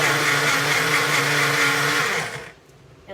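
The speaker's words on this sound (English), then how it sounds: "I'm opening the top off of the blender." A blender whirs loudly and steadily while mixing a Supergreens chocolate drink, a dense motor roar that cuts off abruptly near the end, leaving near silence.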